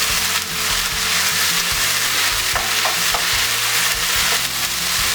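Mushrooms stir-fried in a pan with carrots and vegetables for a chicken fried noodle dish, a loud, steady close sizzle with scraping stirring throughout and no talk.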